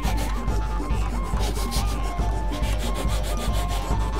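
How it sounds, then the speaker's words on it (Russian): A flat metal file rasps steadily against the bark of a small wooden branch, shaping it into an ear plug of set diameter; repeated rubbing strokes, close and fairly loud, with no talk. "Напильником снимаем кору и доводим плашку до нужного диаметра."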